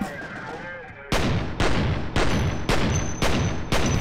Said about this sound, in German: Eine Granate am besten reinwerfen.